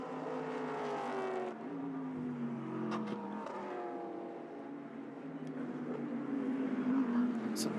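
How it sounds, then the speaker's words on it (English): GT3 race cars, including a Mercedes AMG GT3, race at Bathurst, their engines droning and shifting pitch as they pass at a distance, while a commentator talks throughout. "cool to have Mike in the field in a Mercedes AMG GT3"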